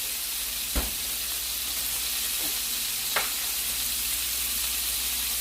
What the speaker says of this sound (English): we're getting ready to add in a little minced garlic